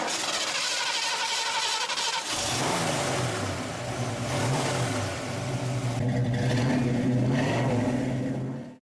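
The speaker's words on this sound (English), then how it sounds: "A 351 cubic inch V8 motivated the car." A Mercury car with a 351 cubic inch V8 running loud and close, starting with a rough broadband roar, then a steady low engine drone that swells as it revs before cutting off at the end.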